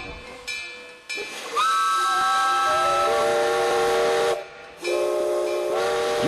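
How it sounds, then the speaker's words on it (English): A steam train whistle in downtown Sugarcreek blows loud and near, in two long blasts with a short gap between them, over a soft background hiss of steam. "Hop a steam train in downtown Sugar Creek and take a short ride"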